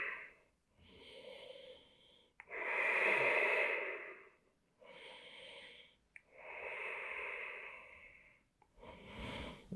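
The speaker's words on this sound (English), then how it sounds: "Breathing big up into your chest here." Slow, deep breaths during a yoga session, alternating long airy inhales and exhales in a steady rhythm, close and soft with pauses between.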